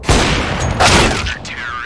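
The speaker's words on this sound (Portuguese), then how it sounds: "Boa sniper, boa sniper!" Loud video game gunfire goes off in a competitive shooter match: a sharp sniper rifle crack followed by rapid echoing shots and booms within two seconds, with no one talking.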